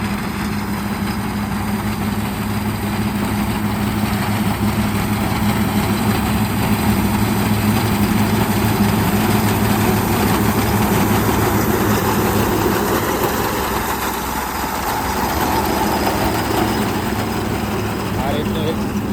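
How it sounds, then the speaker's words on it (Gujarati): A New Holland tractor runs a front-mounted wheat reaper in a field, its engine giving a steady, loud, low rumble that holds unbroken throughout. "ટ્રેક્ટરથી ઘઉં કાપવાનું મશીન"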